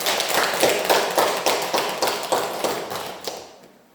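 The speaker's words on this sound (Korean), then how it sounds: "우리 하나님께 박수 한번 칠까요?" A church congregation at a Korean Thanksgiving Sunday service claps together in a loud, steady rhythmic beat of roughly three claps per second, fading out after a few seconds.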